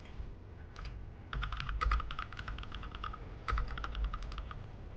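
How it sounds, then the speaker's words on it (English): Rapid clicking of keys on a computer keyboard, steady bursts of typing close up with a brief pause midway and no one speaking. "It's not even angry typing."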